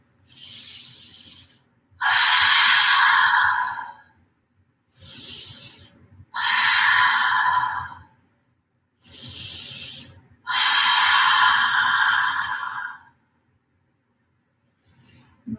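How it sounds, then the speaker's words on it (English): Yoga open-mouth exhales in a vinyasa flow class: three rounds, each a soft hissing inhale followed by a long, loud, breathy sighing exhale, close to the microphone, with quiet gaps between them. "3 full rounds of open mouth exhales"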